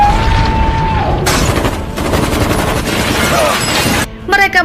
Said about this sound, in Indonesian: Mereka menembaki Chris